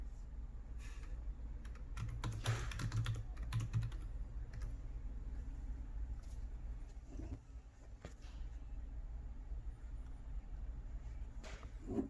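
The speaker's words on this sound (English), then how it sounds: "you just type in your username and password" Fingers tap out a username and password on a computer keyboard at a Blackboard login page, giving steady clusters of close clicky keystrokes over a low room hum.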